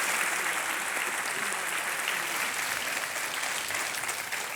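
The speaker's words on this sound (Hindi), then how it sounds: "तालियां बजती रहें" Studio audience applauding steadily on the KBC quiz show, a dense, continuous clapping that holds loud throughout and tapers slightly at the end, with no talk over it.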